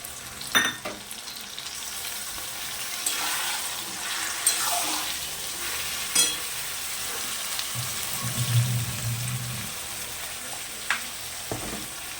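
Onion-garlic paste and a tomato added to potatoes and onions frying in a pan give a steady sizzle, with scrapes and clatters of a stirring spoon now and then, no one speaking.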